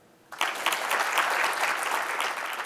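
An audience asked to clap again breaks in abruptly after a short silence, a burst of many hands clapping together that stays loud and dense for over two seconds.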